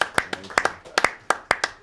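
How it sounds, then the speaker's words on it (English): A small group claps for swimmers during a podcast, roughly eight sharp, distinct claps spaced unevenly across a couple of seconds, close and fairly quiet. "We get a big round of applause, please."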